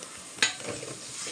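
Ginger paste fries in oil in a pan for a ridge gourd dish, with a soft steady sizzle and one sharp utensil scrape against the pan, fairly quiet.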